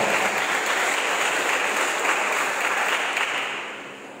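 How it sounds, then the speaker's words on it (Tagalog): Steady, dense applause from a large congregation at a Christmas Day church celebration, sustained throughout and tapering slightly at the very end. "Isang malakas na palakpak sa ating Panginoon."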